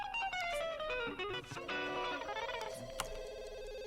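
A telephone rings in The Sims 2, a bright electronic trilling tone repeating steadily and loudly throughout with no talking.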